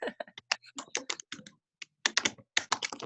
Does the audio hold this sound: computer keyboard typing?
yes